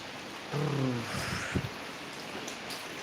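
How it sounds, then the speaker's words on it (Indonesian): Steady hiss of heavy rain falling during the rainy season, a constant wash of drops with a few brief knocks and a low hum underneath, no voices present. "Hujan deras hari ini, musim hujan ya guys"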